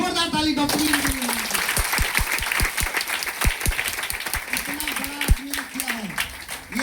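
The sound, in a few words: audience applause at meeting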